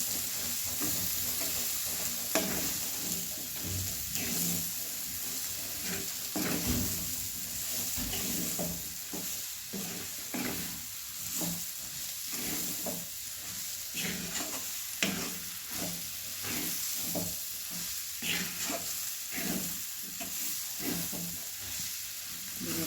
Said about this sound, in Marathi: आता हे भाजून घेतलेलं बटाटो आणि मूळ घालूया आपण हे आता मिक्स करून घेऊया सगळं